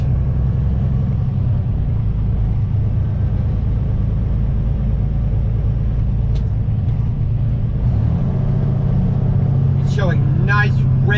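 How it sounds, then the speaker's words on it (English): Heavy highway traffic south of Nashville rumbles past a flatbed truck cab in a steady, loud low drone, with a brief voice near the end. "And we got some nice heavy traffic."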